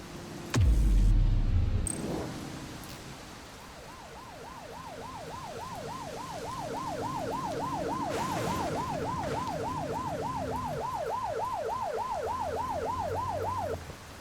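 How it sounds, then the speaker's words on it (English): A wailing police siren from the video game The Precinct cycles steadily up and down for about twelve seconds, loud and continuous over a low vehicle rumble, after a brief thump at the start. "Turn that siren off. We don't need it on right now."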